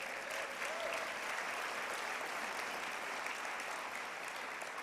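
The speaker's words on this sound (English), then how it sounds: "round of applause, please" A large audience applauds at an annual celebration for a disability services organization, a thick, steady roar of clapping that holds at an even level throughout.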